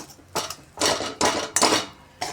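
Mung dal kachori stuffing is stirred in a metal kadhai. A spoon scrapes the pan in about five separate, quietly rhythmic strokes with short pauses between them, close up and with no voices.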